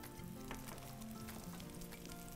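Food fries in a pan on a home-style cooking show, a steady, close, dense sizzle that continues without a break and with no talking over it.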